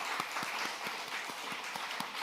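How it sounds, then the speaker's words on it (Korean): A church congregation claps in thanks, faint and somewhat distant, a steady wash of hand claps with a loose rhythmic pulse. "우리 다 같이 감사의 박수 우리 하나님께 한 번 더 올려드리겠습니다."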